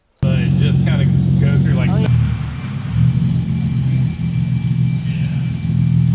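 A Nissan 370Z idles and then pulls away, a low engine rumble that continues after a brief spoken exchange at the start and drifts in level as the car moves off.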